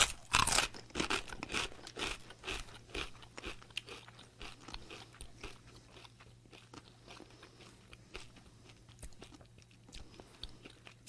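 Doritos tortilla chips crunched and chewed close to the mic, a loud burst of bites at the start followed by steady, quieter chewing crunches throughout.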